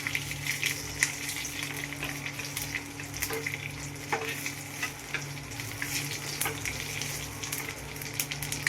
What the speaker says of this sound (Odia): ଏବେ ଆମେ ଛୁଙ୍କ ମାରିବୁ ଦହି ବରାରେ।